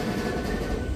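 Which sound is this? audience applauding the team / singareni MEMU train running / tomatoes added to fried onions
singareni MEMU train running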